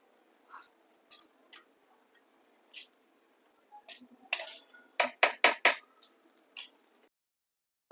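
Spice masala for stuffed brinjals being mixed in a dish, sparse light clinks and scrapes of a spoon against the vessel, clustering into a quick run of sharper taps before trailing off.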